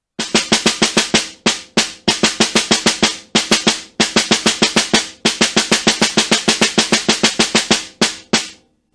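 Crisp snare drum strokes in quick rhythmic phrases, clean individual taps and accents with brief pauses between groups, close and loud.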